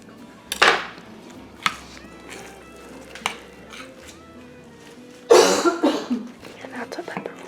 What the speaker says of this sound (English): both of us have got a little slight cough in our voice right now